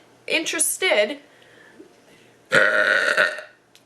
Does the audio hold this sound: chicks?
no